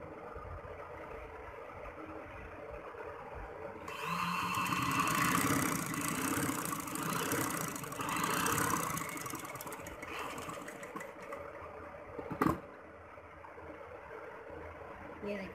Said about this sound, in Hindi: अब हम उल्टा करके इसको सिलाई लगाएंगे जो मैंने कट लगाया था